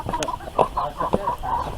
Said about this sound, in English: say goodbye to the meat chickens